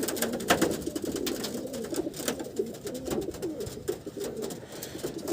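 A prize-winning racing pigeon of a fine breed coos in a soft, repeated murmur that runs steadily throughout, fairly close, with no voices over it.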